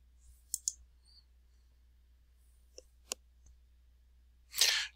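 Sharp computer mouse clicks on a quiet desk, a few single and paired clicks spaced out over several seconds, followed by a short burst of soft rustling.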